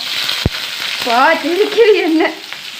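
Mustard seeds and cumin sizzle and crackle loudly in hot oil during tempering, a steady close frying hiss with a sharp pop near the start and a rising, wavering tone over it.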